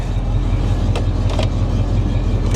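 A rough Square Body Chevy engine idles cold, a steady low throbbing pulse that runs continuously and up close, with faint clicks and no talking.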